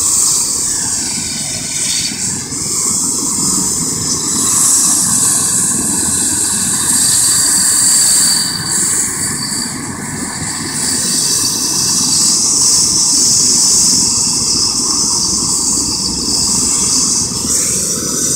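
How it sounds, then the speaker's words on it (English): Medical helicopters flying overhead, a loud continuous droning engine and rotor roar with a steady tonal whine, sustained without pause and no talking. "These are the medical helicopters, Carlos."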